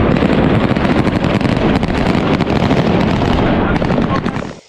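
A sustained, loud, roaring blast and rumble from an explosion inside a helicopter hangar at the Niamey air base during an Islamic State attack fills the clip continuously before cutting off abruptly at the end.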